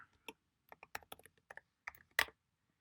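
Quick bursts of typing on a computer keyboard while C code for socket programming is entered, irregular clicking keystrokes close and clear in an otherwise quiet room.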